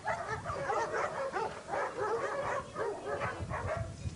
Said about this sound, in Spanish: En nuestro albergue se alojan en estos momentos más de 250 perros de todas las razas.